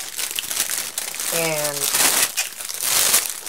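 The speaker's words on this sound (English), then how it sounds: "They have those plastic bags that are really crinkly." Crinkly plastic shopping bags being handled and rustled close by, a steady crumpling texture running throughout with someone talking over it.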